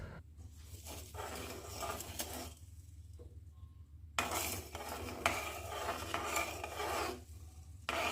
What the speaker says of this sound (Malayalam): ഇനി നന്നായി ഒന്ന് ഇളക്കി കൊടുക്കാം.